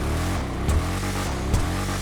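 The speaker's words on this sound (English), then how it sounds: "We now have a proper V8" Twin-turbo V8 engine in a car video game idling and blipping with a deep low rumble, two brief throttle pulses rising from a steady drone, alone with no voices.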